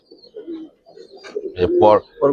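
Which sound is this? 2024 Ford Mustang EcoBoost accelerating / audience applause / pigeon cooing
pigeon cooing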